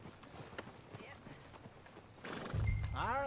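Clip-clopping horse hooves with a whinny in Red Dead Redemption, under game ambience and background talk, growing louder toward the end.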